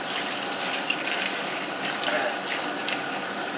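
Hot water runs from a kitchen tap onto an egg-coated skillet after cooking carbonara, a steady close hiss and splatter lasting the whole stretch with small clinks, no voices.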